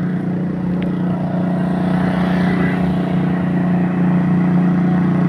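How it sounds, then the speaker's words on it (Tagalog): A fast boat speeds along a river at Masantol, Pampanga, giving a loud, continuous engine roar with a strong low hum that swells slightly as it passes. "Yan mga idol, ang tulin ng bangka."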